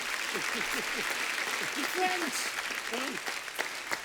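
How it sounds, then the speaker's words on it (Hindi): Studio audience at a Kapil Sharma Show taping applauds steadily and loudly throughout, with a host's voice speaking over the clapping. "जोरदार तालियां मुक्ति के लिए"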